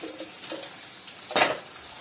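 Chopped onions with sumac sizzle softly in a frying pan as a utensil stirs them, with one brief louder scrape near the end.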